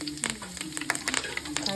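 Curry leaves crackle and sizzle in hot oil with cumin seeds for a spicy mutton boti dry fry, making close, busy spitting pops over a steady fry hiss.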